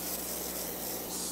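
A continuous close hiss of cooking spray from an aerosol can onto heavy-duty foil, steady and unbroken for about a second.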